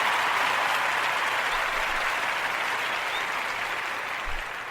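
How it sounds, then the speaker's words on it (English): An audience claps for a donation, a soft, even wash of applause heard at some distance, steady throughout with no talk over it. "let's give them a round of applause for that donation"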